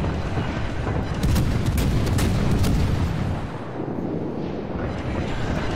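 Ship guns firing in a naval combat video game: heavy booming salvos rolling together into a dense, continuous roar of gunfire and blasts, loud and close throughout.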